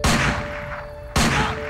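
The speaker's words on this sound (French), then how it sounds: "Des coups de feu éclatent" Two loud gunshots ring out close by in a shooting between police officers and armed robbers, spaced about a second apart, each sharp crack followed by a brief decaying tail.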